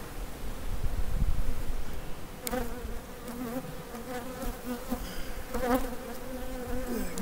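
Honeybees buzz steadily at an open hive with a young bee emerging, a close, continuous droning hum with individual bees passing near, over a soft rustle of the frames.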